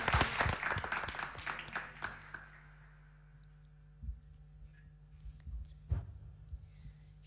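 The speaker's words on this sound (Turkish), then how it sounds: "Alkışlarla." Brief applause at the start fades out within a few seconds, leaving a quiet room with a low hum and a few soft knocks.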